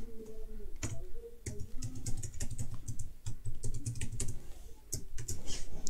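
Fast typing on a computer keyboard while filling in an account sign-up form, with rapid close key clicks in bursts and short pauses, no voice heard.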